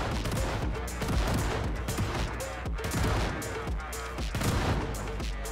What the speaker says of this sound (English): the men carrying shotguns staggered their shots to maximize damage output